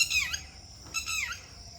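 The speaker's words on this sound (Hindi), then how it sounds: "देखो चिड़ियों की चैं चैं चैं चैं चैं चैं" Two short bursts of shrill bird chirps, fairly close, separated by a brief pause over a quiet low background hum.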